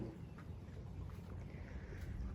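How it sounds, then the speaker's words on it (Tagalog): Wind buffets the microphone outdoors at a hillside vacation house, a low, steady rumbling roar that holds quietly and evenly with no voices. "Sarap dito, mahangin."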